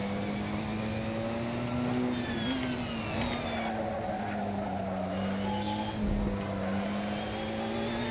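A race car engine in a multiclass racing video game on a bumpy track, a sustained droning engine tone with shifting pitch and brief surges, heard steadily and alone.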